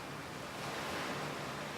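Rough sea waves break along the rocky Nova Scotia coastline near a peninsula at Louisbourg, a continuous close roar of surf mixed with gusting wind.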